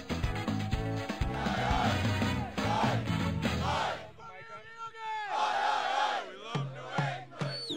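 Stadium crowd making noise at a soccer game, a broad roar of yelling and cheering voices at a distance, with music and amplified sound also mixed in.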